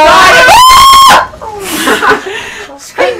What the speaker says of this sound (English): Screaming like a girl.